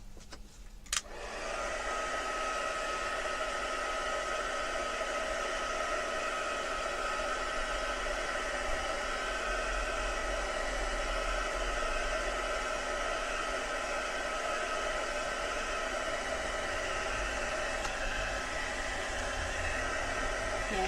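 A hair dryer blows steadily on wax for about twenty seconds after a brief click as it starts. The airflow is loud, close and unbroken, with a constant whooshing roar and no speech.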